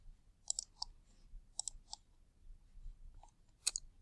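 A computer mouse clicks to submit an answer to an algebra homework problem, sounding as a handful of faint, sharp, isolated clicks spread over a few seconds in a quiet room.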